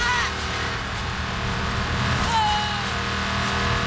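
A motorcycle engine hums continuously in Watch Dogs 2, a steady loud drone with a faint rising whine near the middle, no talk over it.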